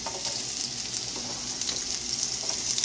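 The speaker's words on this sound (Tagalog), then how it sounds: "uunahin ko pong igisa ang onion" Onion sautéing in a pan for beef steak, giving a steady, close, hissing sizzle with faint crackles throughout and no voices.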